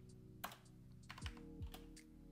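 Typing a Linux command on a computer keyboard, a quiet burst of irregular key clicks and taps spread over about two seconds, alone, against a faint low hum.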